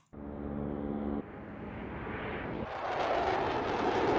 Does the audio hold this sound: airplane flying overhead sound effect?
yes